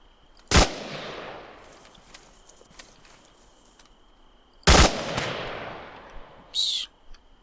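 In ArmA 3, rounds fired at a stone corner ring out as two loud, close gunshots several seconds apart, each trailing a long echoing decay, followed by a shorter, fainter crack near the end.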